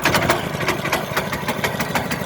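A Honda 13hp engine on a Logic flail mower mulcher, started after six months idle, runs in a fast, rough, pulsing chug, loud and close, with no talking.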